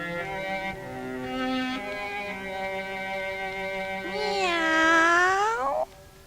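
A boy imitates a cat's meow with his voice: a long, drawn-out, wavering call that rises, then falls, loud and close, with no other sounds around it.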